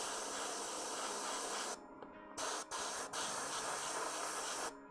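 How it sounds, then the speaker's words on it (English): An airbrush sprays paint onto a model in steady hissing bursts, with brief pauses and short stops between passes, close to the microphone. "Beautiful, soft airbrushing."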